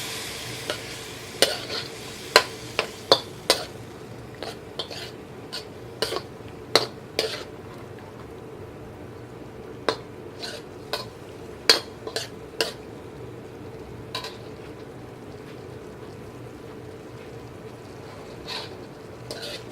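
Metal utensil scraping and clinking against a pan while coconut milk is stirred into pork, with a soft sizzle underneath; sharp irregular clicks repeat steadily throughout, close and fairly quiet.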